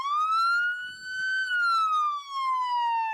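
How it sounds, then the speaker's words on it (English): A police car siren wails loud and close, its tone rising and falling in a slow steady sweep with short dips in volume. "even turning on the siren"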